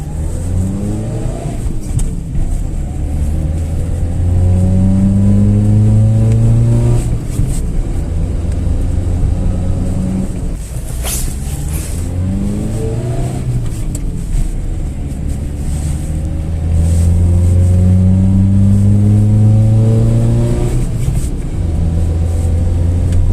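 A VAZ 2108 with a 1.3 engine and a repaired, tuned Solex carburetor revs repeatedly, the engine note climbing and falling in several loud rising sweeps over a steady idle, close to the listener, with no talk.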